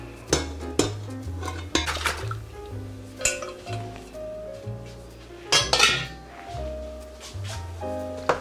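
Pasta goes into a pot while Alfredo pasta is being made, with sharp metallic clinks and knocks against cookware, soft splashes of liquid, and a low tonal background in between.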